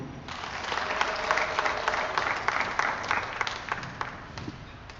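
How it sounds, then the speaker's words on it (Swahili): A church congregation in the parish of St. Martha, Mikocheni, applauding together in a sustained wave of clapping that fades toward the end. "Nipige makofi."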